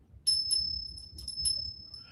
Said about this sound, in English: I got a bell here.